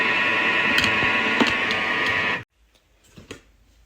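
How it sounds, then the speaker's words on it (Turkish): A food processor kneads dough at speed 4, giving a steady, loud, close motor whir with light rattling that stops abruptly partway through, followed by a few faint clicks and handling sounds. "Şöyle 15 saniye Hız seviyesi 4'te. Hepsini şöyle bir karıştırayım."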